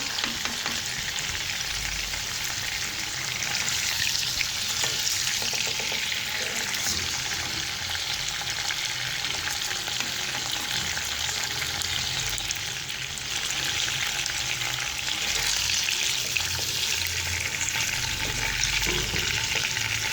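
Chicken pieces for Afghani chicken gravy fry over a medium flame in a pan, giving a loud, steady, continuous sizzle with occasional stirring, and no talk.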